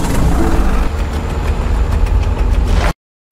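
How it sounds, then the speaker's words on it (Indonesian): Tractor engines running in a film scene near a cornfield, a steady loud low engine rumble with an idling, knocking quality filling the clip before cutting off abruptly. "terdengar suara-suara mesin traktor yang akan dioperasikan untuk menebang semua jagung-jagung yang ada."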